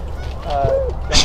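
Geese during a hunt over water with decoys, a single short honk standing out over a breezy, murmuring outdoor background.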